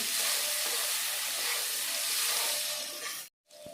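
Garlic paste, ginger paste and chopped tomato hit browned onions in a hot pan, setting off a loud, steady broadband sizzle that holds for several seconds before cutting out abruptly, then resuming briefly.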